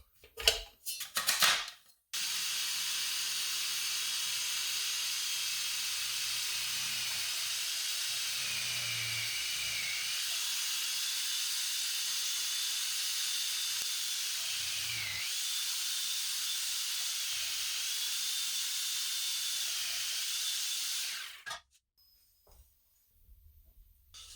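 A food processor shreds a pot of potatoes fed whole through its chute, a steady high whirring hiss running about twenty seconds with faint knocks of potatoes beneath, starting and stopping abruptly, with no talk.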